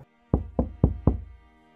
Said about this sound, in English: Suddenly, there's a knock at the door.